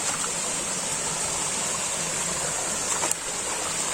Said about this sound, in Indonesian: kita menemukan sungai berbatu, ada air terjunnya.